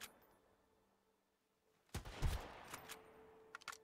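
A quick cluster of gunshots fires in the video game Sunkenland, a loud volley of several close cracks following a quiet stretch, with a few fainter shots trailing after.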